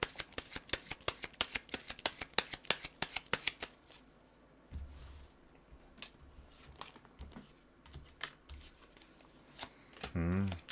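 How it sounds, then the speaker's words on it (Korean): Tarot cards get shuffled close by in a long run of rapid, crisp riffling taps. Quieter handling follows, with a short rustle near the end. No talking is heard over the cards. "조언 카드를 한번 뽑아보도록 하겠습니다"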